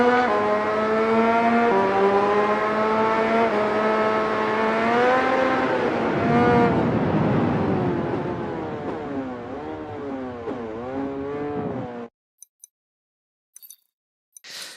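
Racing motorcycle engine in MotoGP20 at Laguna Seca, a loud, buzzing whine that climbs and holds near the rev limiter, then drops and wavers through gear changes before cutting off abruptly into near silence.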